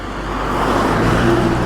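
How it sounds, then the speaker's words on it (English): A car passing by on a mountain road near a rural train station in Saitama, Japan, a steady close tire and engine roar that swells slightly as it goes by. "this car, move out of the way"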